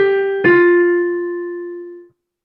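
A single sustained piano note rings out, then a second struck note at about half a second decays slowly, alone and fairly loud, fading to silence after two seconds.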